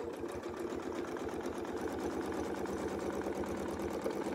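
A sewing machine runs steadily at speed, quilting arcs with a Westalee ruler foot, its even, rapid stitching rhythm close and unbroken.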